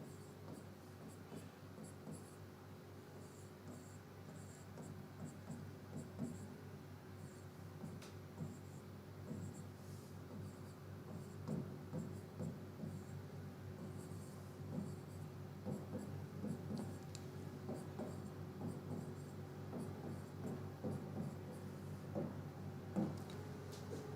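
Marker or chalk writing on a board during a digital logic lecture, a steady run of soft scratchy strokes and taps over a quiet room hum, faint and continuous throughout.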